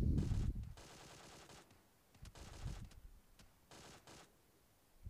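Gunfire in the shooter game PUBG: a few short, fairly faint bursts of automatic fire separated by pauses, heard at a distance with no talking.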